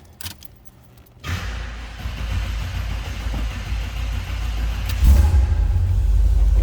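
A 1970 Chevrolet Corvette on a cold start: faint key jangling, then the engine catches at once and settles into a loud, steady low rumble at idle, with a brief swell of revs near the end.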